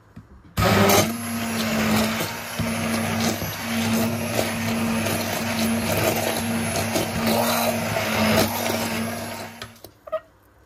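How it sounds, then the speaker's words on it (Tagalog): An electric kitchen blender purées boiled kalabasa squash with water, starting abruptly and running as a loud, steady whirring hum for about ten seconds with slight fluctuations before cutting off. "i-blender ko na at malambot na siya"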